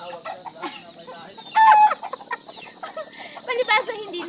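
A pure Texas-breed fighting gamecock clucks and calls in short bursts, close by, with people talking in Filipino around it and a few louder squawks rising above the chatter.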